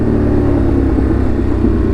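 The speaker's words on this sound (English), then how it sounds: "listening to a badass motorcycle" A Ducati Monster motorcycle engine revs loud and close in a steady, throaty drone, with no voices.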